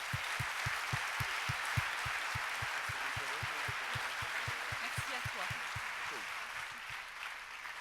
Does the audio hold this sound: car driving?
no